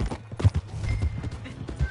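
Horse hooves clop on the ground in the western game Red Dead Redemption 2, several uneven thuds over two seconds close by, mixed with faint scuffs and a brief whinny-like tone.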